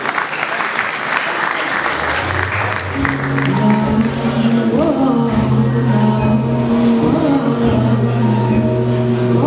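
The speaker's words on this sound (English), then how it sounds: "Please keep clapping until daddy gets here." Sustained audience clapping at a university convocation ceremony, loud and steady throughout, with a continuous musical tone rising beneath the applause partway through.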